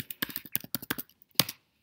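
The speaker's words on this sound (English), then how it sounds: "by typing in Seesaw," Rapid keystrokes on a computer keyboard, close and fairly quiet, come in an irregular clatter of taps, pause briefly, then end with one louder burst of keys.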